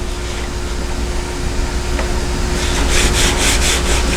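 A 16-32 drum sander grinds across wood as a continuous loud abrasive rush, steady and close, growing slightly stronger with a pulsing texture toward the end.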